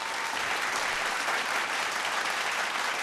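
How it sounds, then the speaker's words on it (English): Steady, dense applause from a studio audience at a televised singing competition, sustained and even throughout without a break. "A round of applause, please, for 2 of our production partners."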